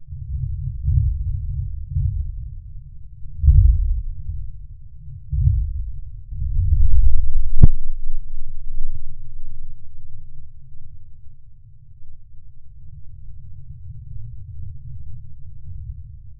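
Seismic audio of a Yellowstone volcano harmonic resonance event: deep, low rumbling drones throb and pulse with swelling waves, broken once by a sharp brief click, all confined to a murky low register.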